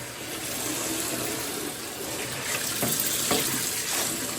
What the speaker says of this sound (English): And then rinse it off real good.